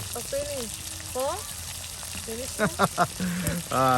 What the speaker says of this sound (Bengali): এই যে মাংসগুলো কিন্তু এখানে ভেজে দেওয়া হচ্ছে